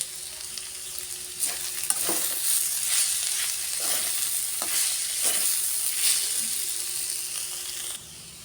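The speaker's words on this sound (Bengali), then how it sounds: "আলু ভাজি করা শেষ এখন নামাই নেব" Potatoes for aloo bhaji fry steadily in a pan with chilli added, a continuous close sizzle broken by several scraping stirs of the spatula, with no voices.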